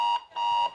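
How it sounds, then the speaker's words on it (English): A timer expiry alarm at a FIRST Lego League championship match, sounding as two loud, steady electronic buzzer tones, a short one followed by a longer one, close and alone. "That is the sound of the timer expiring."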